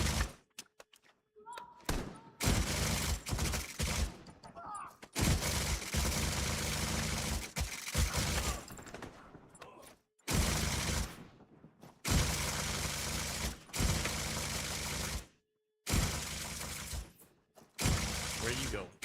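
Turrets fire in a burst-heavy fight in The Division 2, with loud, dense volleys broken by brief silent gaps, under occasional talk.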